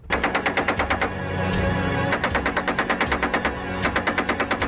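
Remote-controlled machine gun on a Challenger 2 tank's turret firing loud, rapid bursts of evenly spaced shots, with a brief pause before fire resumes, no voices.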